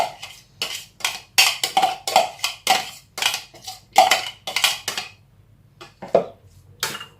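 Mixing a chickpea, carrot and bulgur patty mixture by hand in a bowl, producing a close, rhythmic series of wet squelching and tapping strokes with short pauses between them.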